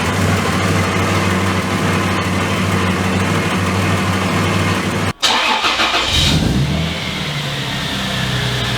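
A 1995 Toyota LandCruiser's 1FZ-FE petrol engine runs rough at a loud, close idle, briefly cuts out, then fires up again and settles into an uneven idle.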